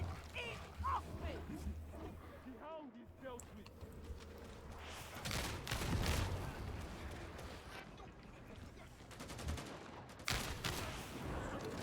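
Gunfire in the video game Darktide: repeated broadband bursts of shooting mixed with game noise and combat effects, loudest around the middle and near the end, with a player's voice talking over parts of it.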